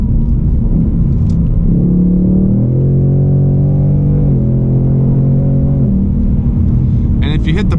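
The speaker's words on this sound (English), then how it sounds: "It goes from first to third, fourth, fifth, sixth. And that's just quarter throttle, just easing into it." A Ford Mustang Mach 1 accelerating smoothly at quarter throttle, its engine rumbling low and rising through several quick upshifts, heard loud and close from inside the car without speech.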